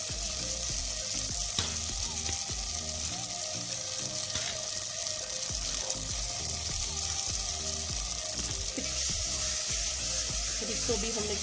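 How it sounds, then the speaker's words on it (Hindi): Wheat flour roasting in a pan for aate ka halwa, with sugar and dry fruits added, giving a steady close sizzle and frying hiss with occasional stirring scrapes, continuous throughout. "फिर इसको भी हमने थोड़ी देर भूनना है।"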